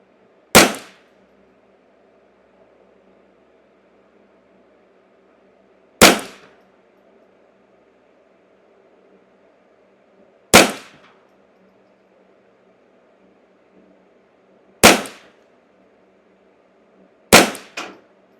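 A Ruger Custom Shop 10/22 rifle fires CCI standard velocity .22 ammunition, five sharp single cracks spaced several seconds apart, each with a brief ringing tail over a quiet background hum.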